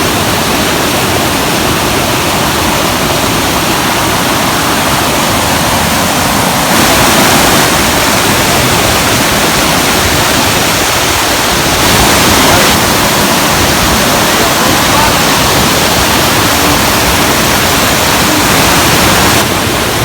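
A rushing river swollen by snowmelt roars as a loud, steady broadband wash of water, close by and continuous with no voices.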